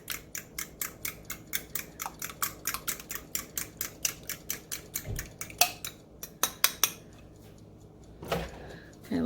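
Bread pudding mixture stirred briskly in a bowl while liquid is poured in, a quick run of regular utensil clicks against the dish that slows and breaks into a few scattered knocks near the end.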